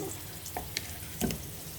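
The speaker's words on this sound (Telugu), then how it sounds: "ఈ వెల్లుల్లిపాయలు వేగిన తర్వాత ఈ చట్నీ ఈ నూనెలో వేసి ఇవ్వండి" Sorrel-leaf (chukkakura) chutney hisses gently in hot oil with fried garlic, a steady soft sizzle with a few faint pops and scraping stirs, heard alone.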